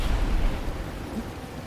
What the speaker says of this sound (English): It's raining inside.